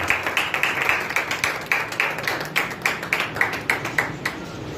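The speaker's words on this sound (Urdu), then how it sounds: "انہی تالیوں کی گونج میں پاسٹر بابر صاحب کو دعوت دیتا ہوں" A church congregation applauds to welcome a pastor with steady, rhythmic group clapping that stays even and fairly close throughout, with no talking over it.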